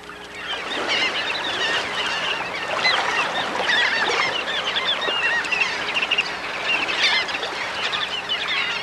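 A crowd of shorebirds feeding on horseshoe crab eggs on a beach fills the air with a dense, continuous chorus of overlapping squawks and honking calls, close and lively throughout.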